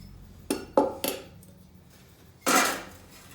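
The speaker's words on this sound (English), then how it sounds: "Got a small frying pan with a folding handle." A small frying pan with a folding handle is picked up and set down among camp cookware, giving three quick metallic clanks and then a louder scraping clatter, close and otherwise quiet.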